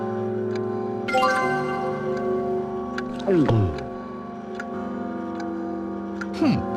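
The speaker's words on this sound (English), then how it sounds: "What a lovely brutal swooshing sound this clock makes." A clock in the game Discworld II makes loud, brutal swooshing sweeps, one in the middle and another near the end, over steady tonal game music with faint ticks.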